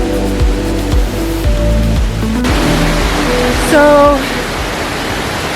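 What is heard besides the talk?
Kravice Waterfalls rushing water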